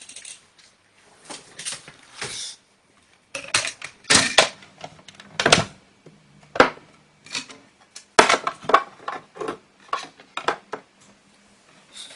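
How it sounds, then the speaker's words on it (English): A small die-cutting machine is readied to cut a shape from white card: scattered close mechanical clacks, creaks and rattling handling sounds in uneven bursts separated by short silences, no speech. "So I'm going to cut one of those out in wicker white. Grab my little machine."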